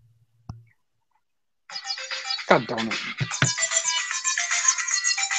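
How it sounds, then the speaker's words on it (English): A phone ringtone starts up suddenly during a wrestling talk podcast and keeps ringing loudly and continuously to the end, after a man's brief annoyed exclamation in an otherwise quiet room. "My phone was ringing randomly."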